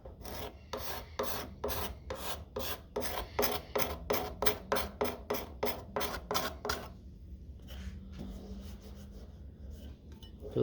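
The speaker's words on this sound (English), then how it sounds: "using the card scraper." A card scraper is drawn along a wooden carving axe handle being refinished, giving about eighteen evenly spaced rasping strokes, close and steady, before the work drops to a few quieter scrapes and handling noises.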